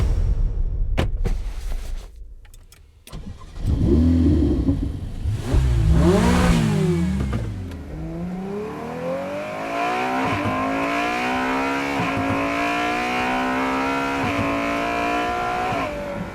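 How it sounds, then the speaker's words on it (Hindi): A car pulling away as an audio-story sound effect: a door thud and engine start, then loud revving that climbs through several gear changes before settling into a steady drone as the car drives off, with no speech. "गाड़ी में बैठकर घर के लिए निकल चुके थे"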